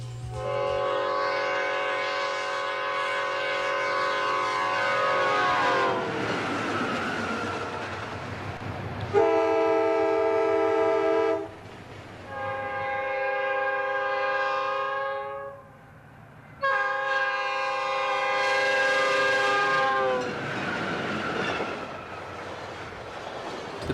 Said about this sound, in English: The units came equipped with either a Nathan P5A or K5LA airhorn.